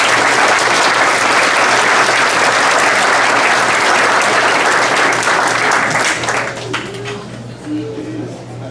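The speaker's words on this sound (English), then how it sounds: "Give him a round of applause." Audience applause at a high school football awards night, a loud sustained wash of clapping from a large crowd that fades out after several seconds as a voice begins speaking.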